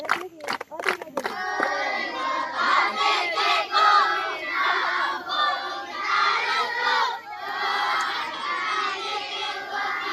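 Children at a camping school chant a sports house cheer together at full volume, opening with a few sharp claps and then carrying on as a loud group shout that rises and falls.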